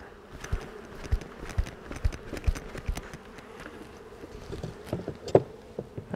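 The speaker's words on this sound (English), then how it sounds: "That is a lot of bees." Many bees from a swarm buzz nearby in an outdoor hive setting, with individual insects zipping close past in quick passes over a quieter hum of the wider swarm.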